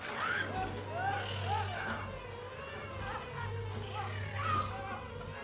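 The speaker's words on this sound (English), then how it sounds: "I hate wasps so much." Wasps in the video game It Takes Two, a steady droning buzz with wavering whines sweeping up and down, continuous throughout and fairly close.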